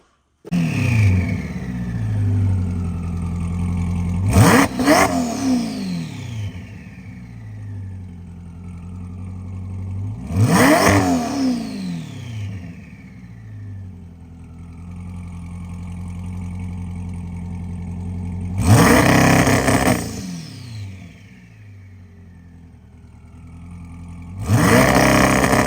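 Twin-turbo Corvette C8 E-Ray engine bursts into loud revs four times, each sharp blip sweeping down and settling back to a rumbling idle between them, with no talking over it.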